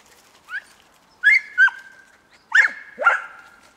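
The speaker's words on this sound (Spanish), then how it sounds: "perro con 6 meses" A six-month-old dog gives several short, fairly close barks and yelps in uneven bursts over a few seconds, with quiet gaps between them.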